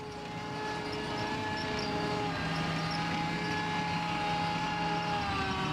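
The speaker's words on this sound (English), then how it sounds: "Of course, it's not gonna sound like a real Stug because it's not the same engine, but still it's fun to listen to." A replica StuG tank vehicle with a non-original engine runs steadily nearby, giving a constant humming drone with a layered mechanical whine that holds at an even level throughout.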